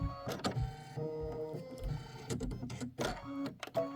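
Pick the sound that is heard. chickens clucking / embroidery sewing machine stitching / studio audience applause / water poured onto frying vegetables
embroidery sewing machine stitching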